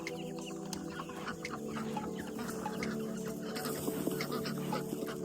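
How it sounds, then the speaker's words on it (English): A flock of chickens clucks and chatters continuously nearby, overlapping calls forming a busy, moderate barnyard din. "Get these chickens fed up."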